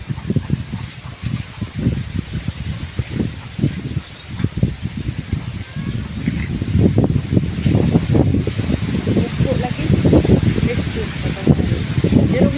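Strong gusty wind from Typhoon Tino drives rain in the Philippines, rough low roaring gusts and rustling swelling and easing close by, with a voice speaking now and then.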